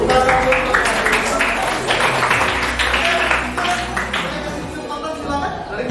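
Classroom applause after a teacher's prompt at a junior high school session: dense, steady clapping from a group of students filling the whole stretch, with some voices mixed in.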